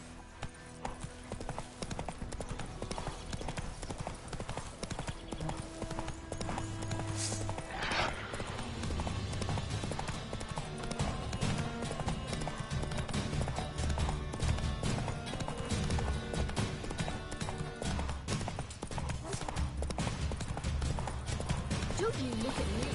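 Roach the horse gallops in The Witcher 3, a steady run of clip-clop hoofbeats held up close for the whole stretch, with a brief whinny early on and game music and ambience underneath.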